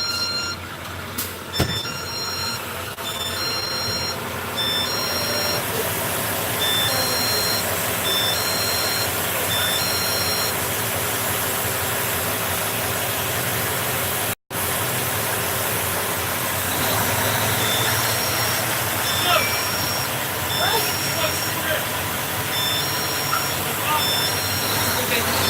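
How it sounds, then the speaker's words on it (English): A truck engine idles and rumbles steadily nearby while reversing beeps repeat in evenly spaced bursts, pausing partway and then returning, with some talking mixed into the background noise. "and of course there's a truck."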